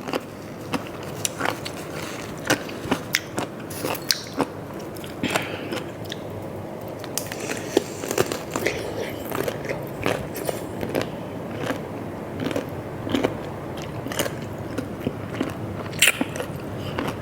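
Crunchy bullet-head jellyfish, served with seafood dipping sauce, chewed close to the mic, giving repeated sharp crisp crunches and crackles in a steady irregular rhythm throughout, with no talking.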